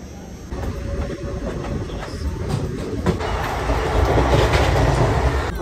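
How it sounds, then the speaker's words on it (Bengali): The Netaji Express pulls into platform 1 at Bardhaman Junction with a continuous rumble and rhythmic wheel clatter that swells louder toward the end, with no voices. "1 নম্বর প্ল্যাটফর্মে আমাদের ট্রেন এসে ঢুকেছে।"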